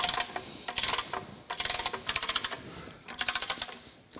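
Wrench or ratchet tightening 1.5 inch bolts on the upright columns of a metal planer under restoration, in four bursts of rapid clicking separated by short pauses, close and fairly loud.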